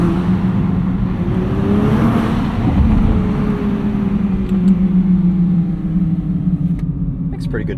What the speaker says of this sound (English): Makes pretty good noise. Yeah, one of the better sounding V6s for sure.